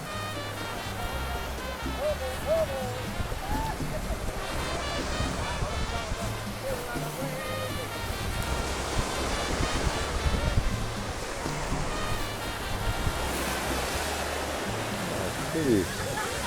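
Ocean waves wash onto the beach at Mar del Este near Havana in a continuous close roar of surf, with people talking over it.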